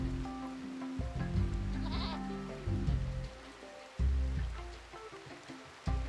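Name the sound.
goats bleating in RimWorld video game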